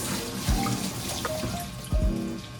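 Mangoes washed by hand under a running kitchen tap, steady water flow with two splashy surges as the fruit is turned in the stream, close by.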